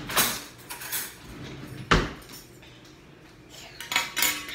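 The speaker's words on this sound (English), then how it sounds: "Okay, silverware." Silverware and dishes handled while setting up breakfast, with a few sharp metallic clinks and clatters spaced apart, one louder knock in the middle and a closer cluster at the end.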